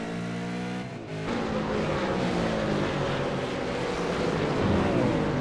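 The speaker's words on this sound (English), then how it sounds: "It's always so intense watching gearbox and bumper cams on these cars." Supercars V8 race car at Canadian Tire Motorsport Park, heard from an on-board gearbox or bumper camera: a loud, close engine drone with a brief dip near the start, then sustained revving with shifting pitch as the car accelerates.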